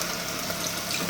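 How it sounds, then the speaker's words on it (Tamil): Rinse water from a mixer jar pours into a simmering chicken curry, a brief steady splashing trickle at moderate level, alone. "இப்போது அந்த மிக்சியை நல்லா ரின்ஸ் பண்ணி அதில் இருக்க தண்ணியெல்லாம் ஆட் பண்ணிக்கிறேன்."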